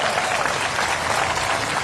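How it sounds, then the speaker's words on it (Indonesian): Applause from a church congregation at an evening revival service in Sibolga, a dense burst of hand clapping that fills the short moment without pause, moderately loud. "Mana tepuk tangannya?"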